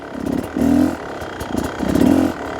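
Dirt bike engine blipped twice during slow clutch-control practice on a small uphill, each rev rising and falling over a low idle, close and fairly loud.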